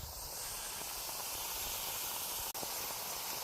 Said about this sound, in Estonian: Nii, vesi keeb.